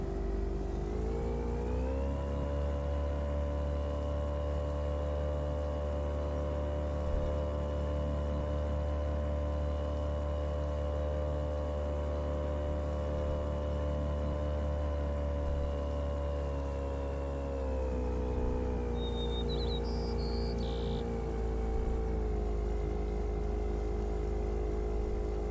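Steady in-game vehicle engine from the video game Mad Cave, droning continuously and fairly loud at a constant pitch that dips slightly partway through, with no talking over it.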